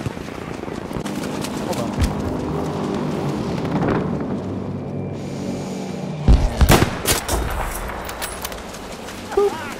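Video game gunfire during a team objective battle with tanks: scattered sharp shots and a cluster of loud bangs near the end, mixed with ongoing battle noise while a person talks.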